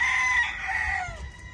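A jabao gamecock crows once, a loud, drawn-out call with a rising start and a falling finish, heard close and alone.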